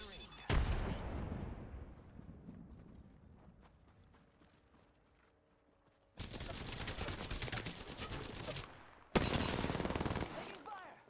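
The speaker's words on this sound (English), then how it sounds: "Taking fire." Gunfire in the shooter game Apex Legends: a loud shot with a long reverberant tail fading out, then two dense bursts of rapid automatic fire, close and harsh.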